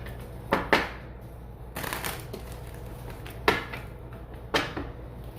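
Tarot cards are shuffled by hand in several quick, crisp riffling bursts separated by short pauses, with soft rustling of the deck between them, heard close up and without talk.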